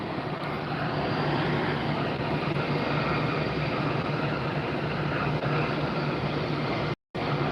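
Airliner at Tampa Airport, a steady broad engine roar that holds at moderate distance with no voices, ending in a brief dropout near the end.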